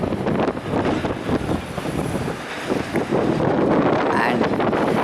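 Strong wind buffets the microphone at a demolition and fire site of a former club in Blackpool, a loud, continuous roar with gusty swells throughout.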